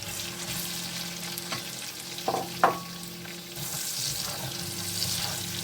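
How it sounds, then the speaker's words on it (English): Chopped onion fries in a pan for a seafood stir fry, giving a soft, steady sizzle with a couple of brief utensil clinks partway through. "We want the sweet taste of the onions to come out, so allow it to fry for a few minutes as well."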